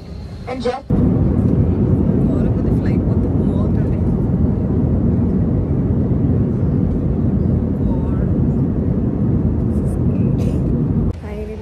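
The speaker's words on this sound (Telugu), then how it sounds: "ఫ్లైట్ ఎక్కేసాం ఇప్పుడే" Passenger airplane cabin just after boarding fills with a steady, loud low rumble of engines and air systems, with brief clicks and shuffling at the start and end.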